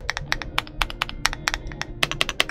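Typing on an Ajazz AC100 aluminum mechanical keyboard with an 1800 layout and a reseated stabilizer: quick, crisp, close keystrokes in an uneven rhythm, with a deeper thock on a few presses.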